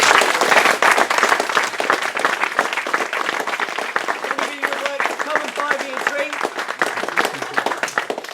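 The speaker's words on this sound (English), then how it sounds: "Big round of applause, everybody." Audience applauds at a Great British Hobbit League final awards night in 2014, a dense, steady clatter of many hands that runs through, with a voice speaking briefly over the clapping.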